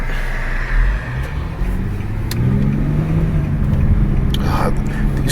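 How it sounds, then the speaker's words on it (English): An Infiniti G37 fitted with a cold air intake pulls away in a loud, rising engine note that climbs steadily as the car accelerates, heard from inside the car. "The factory sound of this G37 is something that it's really nice"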